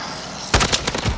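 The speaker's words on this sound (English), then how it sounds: "I hear sniper shots." Several sharp sniper rifle shots in Call of Duty: Modern Warfare ring out in quick succession after a quiet start, loud and close with a brief crackling tail, and no voices over them.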